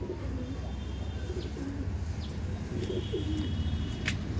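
Pigeons in a Bengali backyard loft of over a hundred birds coo repeatedly in soft, low rolling calls, with faint chirps and a brief wing flap over steady background noise.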